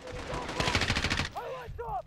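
Rapid automatic gunfire crackles in a burst in Call of Duty Modern Warfare, followed by sharp whizzing impacts and clanks, moderately loud against game background noise.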